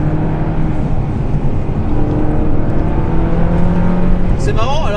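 A Ferrari sports car engine drones steadily and loudly while driving, with a rising rev near the end, as someone talks over the noise inside the car.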